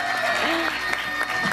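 Studio audience applause welcoming a performer onto a Ramzan television show stage, a steady wash of clapping that fills the short stretch, loud and close, with a voice briefly rising over it.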